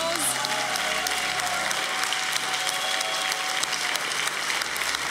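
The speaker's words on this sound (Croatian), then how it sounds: "Molim jedan veliki aplauz." Studio audience at a Serbian quiz show bursts into big, sustained applause, dense clapping that stays loud and even for the whole stretch with no voices over it.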